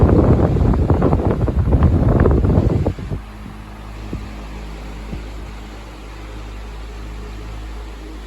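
A Masterforce 20-inch orbital floor fan blows a loud, steady rush of air that drops abruptly to a quieter, even whoosh with a low hum and a few faint knocks.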